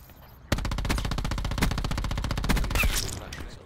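Rapid, continuous video-game machine gun fire starts abruptly and rattles on in an even, fast stream of shots for about three seconds, loud and close.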